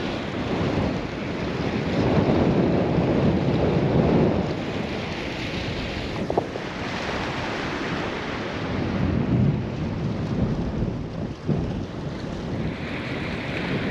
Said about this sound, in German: Der Wind bläst ordentlich heute.